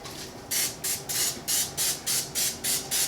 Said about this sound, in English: So you do want to give it a good spray,